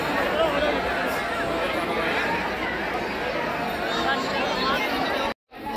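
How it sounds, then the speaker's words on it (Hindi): Dense crowd chatter and babble fill the narrow lanes of Vrindavan during Holi, a steady wash of many voices close around, broken by a brief dropout near the end. "यहाँ पे देखिए ज्यादा बहुत भीड़ हो रही है।"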